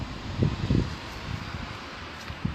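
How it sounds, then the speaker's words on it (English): Wind buffeting a microphone outdoors in a gusty spot, with low rumbling bursts and a steady breathy roar, no speech over it. "because it's rather windy here."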